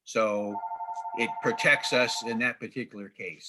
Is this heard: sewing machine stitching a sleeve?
no